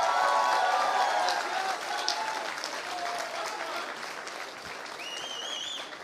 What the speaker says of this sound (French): On applaudit Mathias qui prend des photos magnifiques